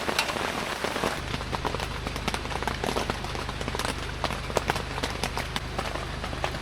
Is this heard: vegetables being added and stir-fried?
no